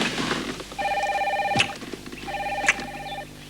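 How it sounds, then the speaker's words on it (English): A telephone in a brand new car rings twice in clear electronic bursts, with a short pause between the rings. "with a telephone. It's already ringing."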